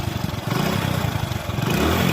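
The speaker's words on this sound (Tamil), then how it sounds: "வண்டி தட்டினே ஸ்டார்ட் ஆகும்." A 2008 Hero Honda Splendor motorcycle engine starts up and runs close by, a loud, steady single-cylinder putter with mechanical clatter and slight revving.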